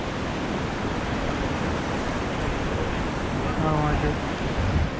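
Rushing water from a wilderness river rapid in the Yukon, a steady broadband roar filling the whole clip, with a person speaking briefly over it near the end.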